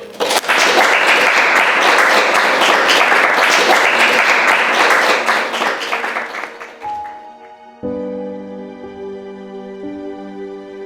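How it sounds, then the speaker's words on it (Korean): A room full of people breaks into loud, dense clapping that runs for several seconds, then thins and gives way to quiet music. "박수!"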